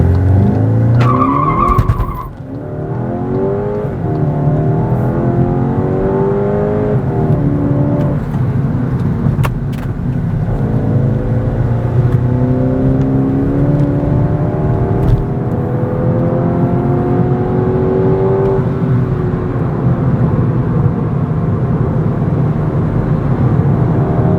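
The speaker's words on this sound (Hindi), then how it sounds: "जिसका मतलब ये बुलेट की तरह कार को लॉन्च करेगा।" A Skoda Octavia RS 245 in launch control surges from a standstill toward 100 km/h with a brief tire chirp at the start. The engine then climbs loudly through successive rising gear pulls, heard from inside the cabin.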